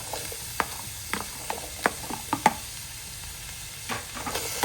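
Shallots and onions cooked with ginger and garlic for a Kerala beef curry fry in a pan, a faint steady sizzle punctuated by several sharp scrapes and taps of a spoon as they are stirred.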